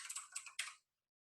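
Quick bursts of typing on a computer keyboard, a rapid flurry of key clicks lasting under a second and then stopping into silence.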